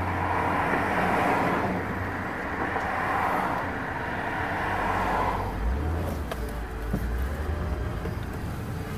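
A car edges off a farm road onto Marathonos Avenue at an unmarked crossing with poor visibility, and steady road and engine rumble fills the scene while a low vehicle drone rises partway through.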